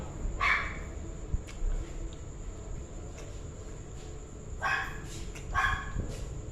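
A dog barks in short, separate bursts, one early and a pair near the end, at moderate distance over a steady outdoor hiss with faint insect-like chirping.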